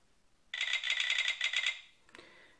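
On an Essential Phone camera, holding the shutter button sets off a rapid burst of bright electronic shutter clicks that lasts about a second and a half, followed by one sharper click.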